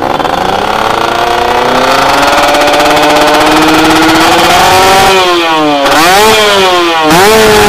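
A two-stroke Kawasaki Ninja motorcycle engine with a PWK 33 carburetor revs loud and close, climbing steadily to high rpm, then is blipped sharply twice near the end with quick drops and rises in pitch.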